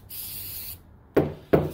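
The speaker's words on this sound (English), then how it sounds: "I'll spray this down with some brake cleaner." Brake cleaner hisses from an aerosol can onto the lower ball joint of a 1996–2000 Honda Civic, one long close spray followed by two short sharp knocks.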